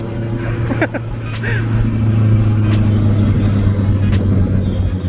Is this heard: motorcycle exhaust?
yes